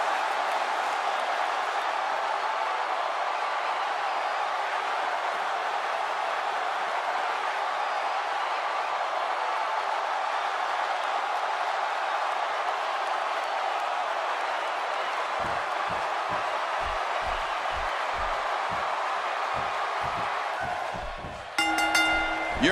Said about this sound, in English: listening to the reaction this guy gets from a crowd never gets old